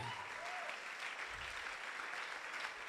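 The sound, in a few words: congregation clapping for the Holy Spirit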